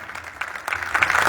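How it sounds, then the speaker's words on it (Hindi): Applause from an event audience building up over a second, rising from scattered claps to fuller clapping with crowd murmur. "एक बार फिर से जोरदार तालियां"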